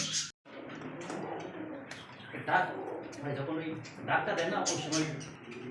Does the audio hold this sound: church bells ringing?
no